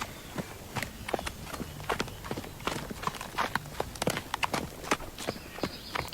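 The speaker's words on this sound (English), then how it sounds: "we're going for a bit of a trot now" Hooves clip-clop at a steady trot, a horse moving at a brisk rhythm of close, crisp beats that continues evenly throughout with no talk.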